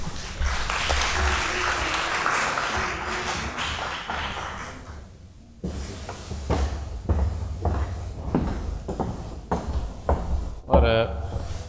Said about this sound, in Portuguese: O vosso aplauso para Rogério Veiros.